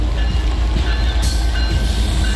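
A Norfolk Southern locomotive and train pass close by in Lakewood, Ohio, a steady loud rumble with broadband rail noise throughout, no talk.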